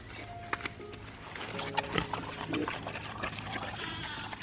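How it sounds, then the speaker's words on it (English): Pigs on a farm, heard as faint grunts and snorts at moderate distance over steady low background hum and scattered light clatter. "Pigs!"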